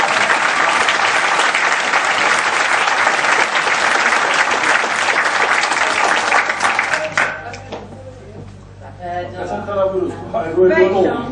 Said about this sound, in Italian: Mi spiego a battere le mani perché è stato bravissimo!